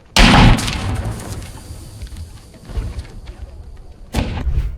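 Loud booming explosions and battle gunfire in an AI-generated war scene: a heavy blast at the start, rumbling bursts and scattered shots through the middle, then another strong impact near the end, with no voices.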